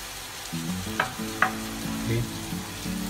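Marinated chicken legs crackle and sizzle softly in a pan, with light scraping and stirring clicks, close and steady under a low background hum.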